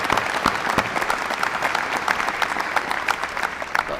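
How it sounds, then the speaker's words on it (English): A hall audience at a university white coat ceremony breaking into applause, dense continuous clapping from many hands with sharp individual claps standing out close by, sustained evenly throughout. "how about a round of applause for Dr. Henry?"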